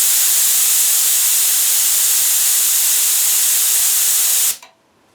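Strong, steady hiss of air rushing from the nozzle of an Air Pig portable air tank tire inflator, loud and close, cutting off abruptly near the end into quiet.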